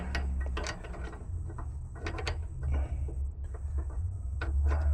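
A hose fitting is threaded onto the liquid line of a Rheem heat pump with rapid metallic clicks and ratcheting taps in irregular bursts, close up over a steady low hum of machinery.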